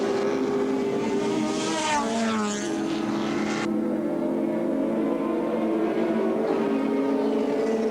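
A 5.7 litre Ford Falcon race car at Oran Park Raceway in 1984 roars down the straight, engine note climbing and shifting as it passes, steady and fairly loud without commentary.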